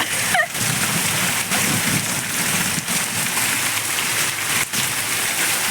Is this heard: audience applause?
no